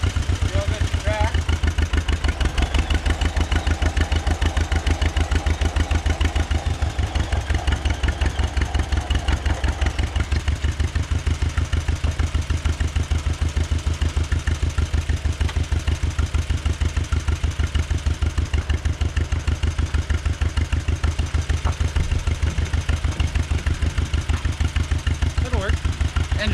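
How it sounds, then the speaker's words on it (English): Tractor engine running steadily at idle on a farm during corn picking, a continuous close mechanical rumble with light clatter that persists throughout with little change. "Engine on."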